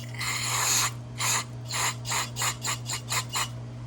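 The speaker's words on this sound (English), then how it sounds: "So let's see if anything comes out there when I spray in here." Short hissing bursts of aerosol cleaner sprayed into a Yamaha XT350 carburetor passage, a long one followed by about eight quicker pulses in a steady rhythm over a low hum.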